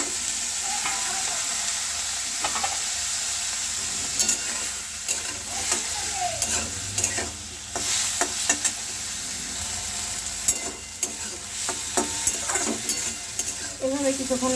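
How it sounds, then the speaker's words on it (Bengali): Pumpkin, eggplant, onion and green chilli sizzle in fish oil in a wok, a constant frying hiss broken by repeated spatula scrapes and clinks, close up with no voices. "এভাবে কিছুক্ষণ নাড়তে থাকবো।"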